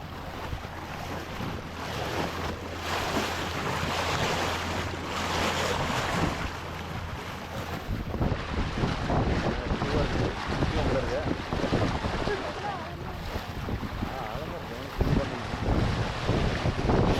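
A speedboat crosses Andaman Sea waves near Langkawi, giving a steady engine drone, water slap and heavy wind buffeting against the microphone, with the roar surging and thumping throughout.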